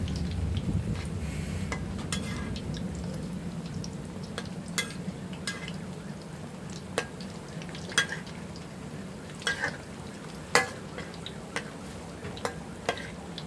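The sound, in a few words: deep-frying banana blossom and minced pork fritters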